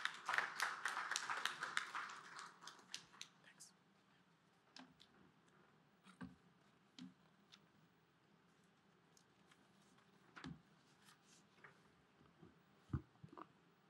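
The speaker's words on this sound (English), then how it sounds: "A round of applause as he comes, please." An audience at a conference on the economics of nature welcomes a speaker with a burst of applause that thins quickly into scattered faint claps and taps in a quiet hall.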